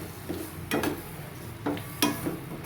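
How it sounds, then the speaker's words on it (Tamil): Vegetables being sautéed in a pan for sambar rice, with a soft sizzle and a few brief scraping stirs of a spoon against the pan, close by with no talk. "நல்லா வதக்கி விட்டு"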